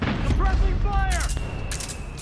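Suppressing gunfire in Metal Gear Solid 4 pours out as a dense, continuous barrage of shots, with soldiers' voices shouting over it and bright cracking bursts late in the short stretch.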